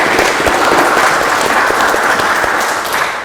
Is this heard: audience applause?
yes